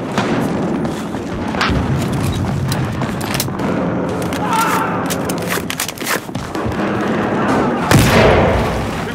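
Battlefield Hardline video game combat on the Bank Job map with an SG510 rifle: bursts of gunfire and heavy booming blasts mixed with dense battle noise, a few sharp loud hits standing out near the end.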